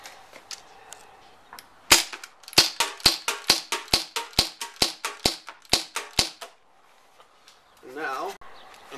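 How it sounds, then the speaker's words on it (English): Tokyo Marui MK23 SOCOM airsoft pistol firing a rapid string of about a dozen sharp, close snapping shots at a steady rhythm, followed by a brief pause and a short stretch of voice. "We're going to do 10 rounds loaded and then 10 rounds with suppressor."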